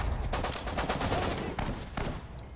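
Gunfire in the Sudden Strike 4 WWII game during the Iwo Jima invasion, with dense bursts of rapid shots in quick succession over a constant battle din, loud and close, with no voices.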